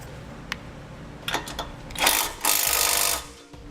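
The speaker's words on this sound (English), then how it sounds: "come back and tighten that up as well" A socket ratchet tightens a nut on a Blue Ox base plate on a 2018 Chevrolet Sonic, giving a few sparse clicks, then two loud bursts of rapid ratcheting close by, with no talk.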